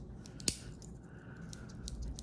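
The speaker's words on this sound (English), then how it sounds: "Works great, the scissors. It's got that spring mechanism there." Leatherman Micra keychain multitool with spring-loaded scissors giving one sharp, close snip, followed by quiet handling noise and soft faint rustling.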